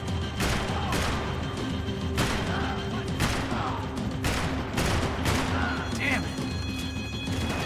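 Gunfire in the video game Max Payne 3, with repeated sharp bursts of shots over a constant loud roar of engine and action noise, while voices shout over it.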